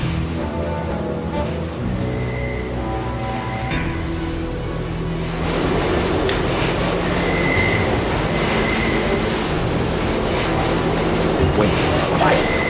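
A train in the video game Deus Ex rumbles and clatters past with a steady heavy roar, squealing wheels and rattling bursts growing louder toward the end, alone without talk.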